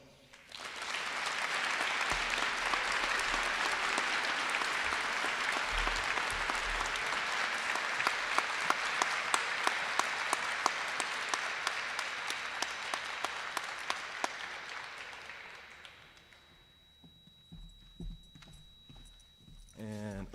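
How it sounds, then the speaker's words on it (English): Sustained applause from a large crowd at a high school awards night, dense clapping that fades out toward the end, leaving quieter room noise. "please give me a round of applause for Thylan Ross."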